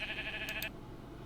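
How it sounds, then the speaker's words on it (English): A sheep bleats from a Minecraft movie trailer, a short wavering cry over a busy music and effects bed that cuts off partway through. "I love that sheep."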